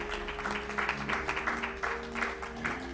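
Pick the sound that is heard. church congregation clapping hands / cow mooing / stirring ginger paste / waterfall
church congregation clapping hands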